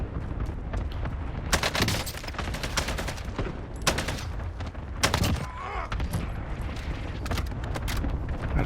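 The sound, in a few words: airstrike explosions and gunfire in Call of Duty Warzone video game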